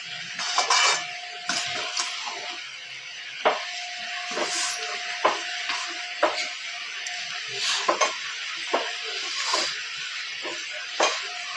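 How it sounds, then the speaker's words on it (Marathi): Red chilli thecha sautéing in hot tempering oil, a soft sizzling hiss punctuated by repeated clinks and scrapes of a spatula against the pan, close and fairly quiet. "ही पण या तेलामध्ये या फोडणीमध्ये चांगली परतून घ्यायची आहे."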